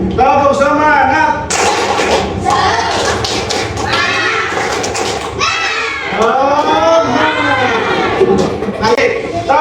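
Student groups in a classroom repeat a rhythmic spirit clap, sharp patterned claps and thumps under loud children's chanting and cheering that fills the room.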